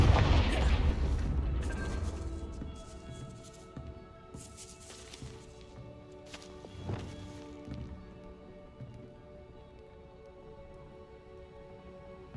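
In Hogwarts Legacy, a Confringo fire spell hits near a gatehouse with a loud opening blast. A crumbling rumble and a few sharp cracks and thuds follow, trailing off quietly with no talk.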